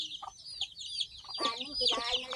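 Chickens at a rural Thai homestead cluck in short, close bursts, with several calls overlapping toward the end over faint background noise.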